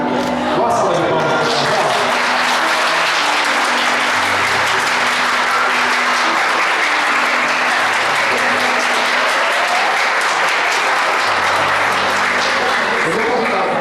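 Guests applauding a couple at a golden wedding anniversary thanksgiving service in a Presbyterian church, loud, sustained clapping from a full room with voices and a few cheers mixed underneath.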